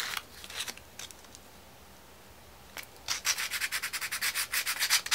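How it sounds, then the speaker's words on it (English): Sandpaper rubs by hand over a surface being roughened for glue, a few scattered strokes, a quiet pause, then a quick run of rhythmic, close scratching strokes. "roughen this up a little so the glue sticks better, so it bonds better"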